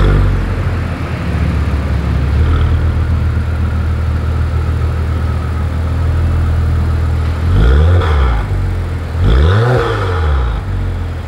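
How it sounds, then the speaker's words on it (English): Exhaust of a 2022 Acura TLX Type-S idling with a steady low rumble, then two sharp revs that rise and fall, loud and close from behind the car. "here is that exhaust clip"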